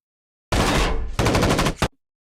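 Automatic gunfire in a tense lab shootout scene from Stranger Things, two loud sustained bursts of rapid shots separated by a short gap, ending abruptly into silence.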